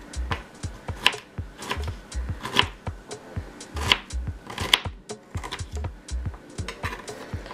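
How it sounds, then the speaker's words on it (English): A knife chops fresh ginger finely on a cutting board, giving quick irregular knocks and taps in uneven bursts, close and fairly quiet, with no talk. "I'm gonna chop up my ginger. Chop it up really fine"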